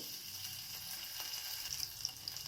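Mustard seeds, chana dal and ginger fry in ghee in a pressure cooker, giving a steady close sizzle with small crackles and pops near the end, no voices.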